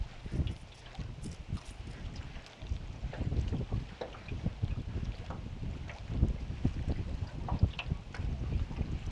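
Wind gusting over a lake in Chambers County, Alabama, buffeting the microphone from a fishing boat with uneven rumbling bursts and faint water sounds, no talking heard.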